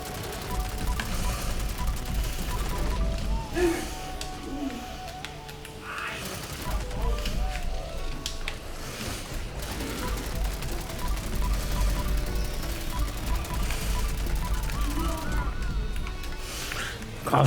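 Gunfire in the video game Fallout 76, repeated bursts of shots over a low rumbling battle din, with game noise layered throughout at moderate loudness.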